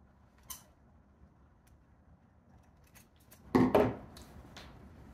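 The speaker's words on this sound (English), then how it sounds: "Now what we want to do is go ahead and clip the corners." Scissors snip the corners of sewn fabric near a zipper facing. One quick snip comes early, then a louder double cut follows a few seconds later, all against a quiet room.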